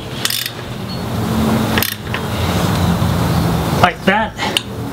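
Ratchet clicks rapidly while tightening a part during a DIY repair, a close continuous mechanical whirr of pawl clicks with a few louder knocks and a short metallic rattle near the end.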